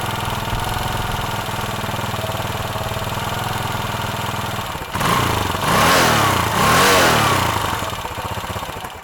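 A 1976 Yamaha XT500 enduro motorcycle's single-cylinder engine runs cold on choke at a steady, loud idle, then surges through a couple of blipped revs before settling back.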